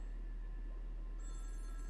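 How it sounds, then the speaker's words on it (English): A telephone bell ringing faintly in the background, a thin steady tone over a low hum, with no one speaking. "Sorry, you're gonna hear the ringing."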